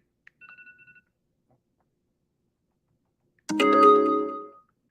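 A phone dialer gives a short burst of quick beeping tones, then silence, then a louder, longer electronic tone lasting about a second before fading out.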